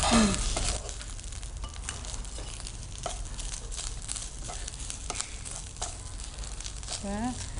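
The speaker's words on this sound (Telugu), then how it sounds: "సో మనం ఇందులో ప్యాన్లో నెయ్యి వేసి దాంట్లో పచ్చి కొబ్బరి వేసి" Fresh coconut frying in ghee in a pan, giving a steady, continuous sizzle with light patter and crinkle throughout, close and moderately loud; a voice speaks briefly near the start and end.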